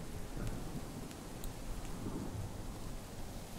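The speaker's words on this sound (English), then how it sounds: "Ooh, there's lightning!" Steady rain hisses with low thunder rumbling beneath it in the prehistoric survival game Rise of Ages, a continuous stormy wash with brief brighter crackles and no talk.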